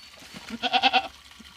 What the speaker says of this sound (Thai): นี่ครับ น้องแพะ